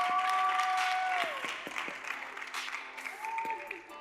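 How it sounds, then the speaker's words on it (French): A studio audience on a French TV show claps and cheers, a thick wash of applause with a whistle or tonal cry over it, loudest at first and then tapering slightly. "Public, on applaudit très fort."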